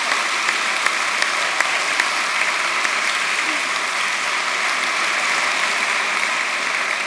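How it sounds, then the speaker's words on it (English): A crowd at a spa brand's new season launch event gives a sustained round of applause, an even, dense wash of many hands clapping with no voices over it. "We need a big round of applause for that, don't we?"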